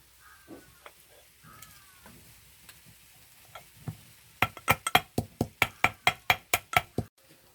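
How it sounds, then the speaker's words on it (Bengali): Two cinnamon sticks and small green cardamom pods dry-roasting in a pan: a few soft scrapes, then a quick, regular series of about a dozen sharp taps and rattles, close and fairly crisp. "দুটো দারচিনি স্টিক, 5-6টা এলাচ, ছোট এলাচ নিয়েছি। এটা একটু রোস্ট করে নেব।"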